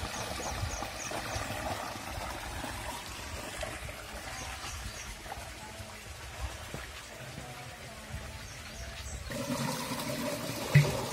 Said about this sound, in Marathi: बोरची मोटर चालू केली काय की लाभ घेऊन